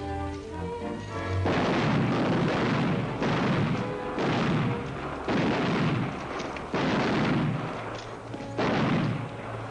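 Gunfire in a 1940 western film, about six heavy booming shots at a fairly even pace, each loud blast trailing into a rumbling decay, with a brief lower sound before the first shot and no speech.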